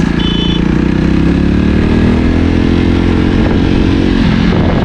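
A 2020 Jawa Perak BS6 motorcycle engine runs loud and close throughout, its rumble rising steadily as the throttle is opened slightly, with no voices over it.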